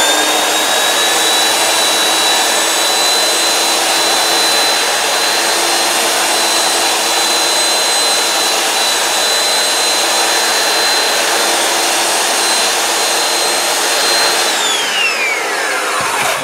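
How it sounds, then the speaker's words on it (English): A belt sander runs steadily on old wood with 80-grit paper, giving a loud, continuous whining roar with a high tonal whine that drops away as the motor winds down at the end. "Want to run your sander, your belt sander, off the edge here"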